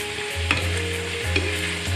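Zucchini linguine stirred in a hot pan, with a steady sizzle and a low hum throughout and two brief louder scrapes of the utensil against the pan, close and alone with no talking.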